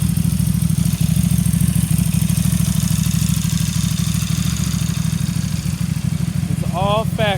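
A 2010 KTM RC8 with an 1190cc engine idles loud and close with a steady, lumpy pulsing rumble throughout, and someone speaks briefly over it near the end.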